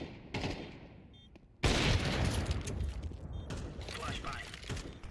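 A grenade goes off in a first-person shooter video game, a loud, sudden blast that fills the mix and rumbles on for several seconds amid ongoing gunfire, with voices talking over it.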